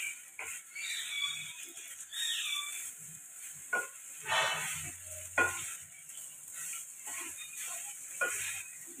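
Basmati pulao rice is stirred in a pan over a low gas flame, with soft intermittent scraping and gentle sizzling bursts, close and fairly quiet.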